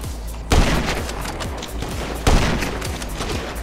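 Gunfire in the video game GTA V, two sharp loud bursts of shots standing out over a continuous dense game soundscape, with no talking.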